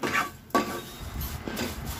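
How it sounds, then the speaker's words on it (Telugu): A spoon stirs vermicelli frying in ghee with cardamom in a pan over medium flame, giving a few short scraping clinks against the metal over a soft background sizzle. "సేమియాలు కూడా గోల్డెన్ బ్రౌన్ వచ్చేంత వరకు కలుపుతూ ఉండాలి."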